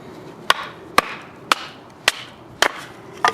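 Thick hardwood about 3.5 inches across is chopped with a Tops Knives DART chopper, a heavy 3/16-inch-spine blade, giving six sharp, loud thwacks spaced about half a second apart, with no one speaking.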